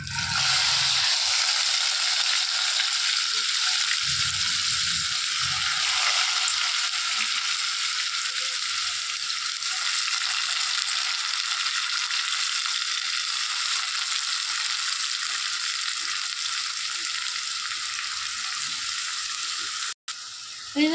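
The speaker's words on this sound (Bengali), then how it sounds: "তেলটার মধ্যে এখন চাল কুমড়োটা দিয়ে দেবো" Grated ash gourd frying in hot oil gives a loud, continuous sizzle and hiss that holds steady throughout, with occasional soft stirring scrapes underneath.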